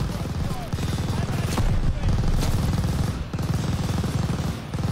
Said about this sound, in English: Itu mesin gun.